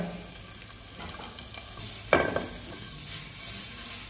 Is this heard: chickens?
no